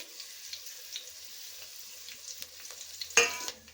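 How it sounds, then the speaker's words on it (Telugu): Green chillies and curry leaves frying in hot oil for an atukula popu (poha mixture): a steady close sizzle and crackle throughout, with a sharp louder spatter burst near the end. No talking. "మిర్చి వేగుతుంది"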